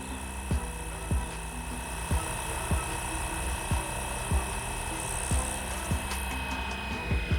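A Flywing Bell 206 RC helicopter spins its rotor up to speed, giving a steady high electric whine with regular rhythmic blade thumps, close and fairly loud, with no voices.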